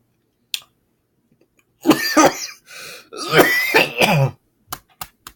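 A few throat clearings and harsh coughs come in short bursts separated by silence, close to the microphone, with a couple of brief clicks at the end.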